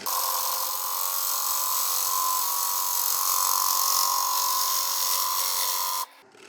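A wood lathe spins a giant silky oak bowl at about 1,000 RPM, giving a loud, steady whirring hum with a bright edge that holds evenly for about six seconds, then drops away abruptly.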